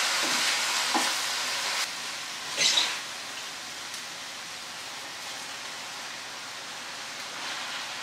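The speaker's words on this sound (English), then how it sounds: "to be able to stir it up so that it will cook down" Onions, kale and collard greens being stirred in a cooking pot, a soft steady sizzle with a few brief scraping stirs, close and without talk.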